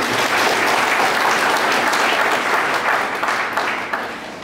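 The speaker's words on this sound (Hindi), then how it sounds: "सारे छात्रों के तरफ से समर्पित टीचर्स के लिए ताली।" Students at a school event clap for their teachers in steady, dense applause from a large crowd close by, holding strong for several seconds before easing off slightly.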